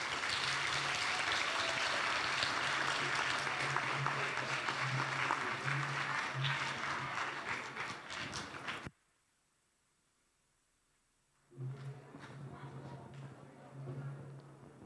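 After a memorial lecture, an audience claps steadily for about nine seconds, then abrupt silence, then the clapping resumes at a lower level with a voice speaking over it.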